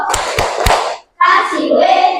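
Three sharp hand claps ring out in a classroom clapping chant, followed after a short pause by voices chanting together, the claps close and crisp.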